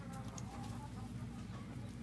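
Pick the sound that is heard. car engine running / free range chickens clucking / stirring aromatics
free range chickens clucking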